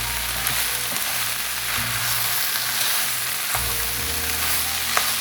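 Arrowroot powder cooking in a hot pan for a low-carb Salisbury steak casserole, giving a dense, constant sizzle with a few faint utensil clicks, close and continuous without speech.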